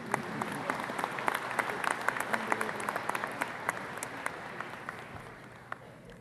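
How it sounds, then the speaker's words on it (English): At a spring university convocation, the audience gives steady, dense applause with many overlapping claps, loudest in the middle and fading toward the end. "You can applaud."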